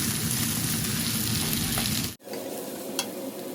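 Sliced onions fry in hot oil for a Bangladeshi village-style salmon curry, a loud dense sizzle that cuts off abruptly partway through and then returns as a quieter frying hiss with an occasional clink.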